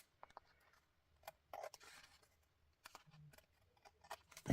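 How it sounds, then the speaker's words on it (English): Scissors trimming a paper napkin tag in a craft project, with a few short, quiet snips and rustles that come and go between pauses. "I will trim it while I've got my scissors next to me"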